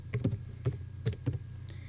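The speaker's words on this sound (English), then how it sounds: "All they have to do is to type GeoGebra" Keys tapped on a computer keyboard while typing the name of the GeoGebra math software, giving about six soft, irregular clicks over a low steady hum.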